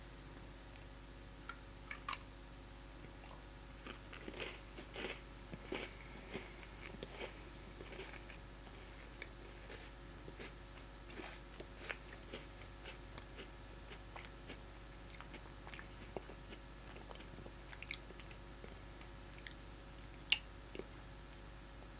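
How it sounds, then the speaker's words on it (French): A dry Oreo cookie is chewed and crunched with no other sound, a long run of faint, sharp, irregular crackles and bites, close to the mouth. "Alors, on va le goûter déjà, juste comme ça, en pur croquage, à sec."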